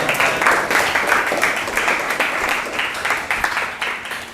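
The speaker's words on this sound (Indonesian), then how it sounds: "Kasih aplaus untuk teman." A class applauds a classmate after a presentation, with steady, dense clapping from a group at moderate distance running throughout.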